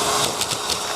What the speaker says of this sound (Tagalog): Tignan natin kung magandang mag-blower, ay mag-vacuum.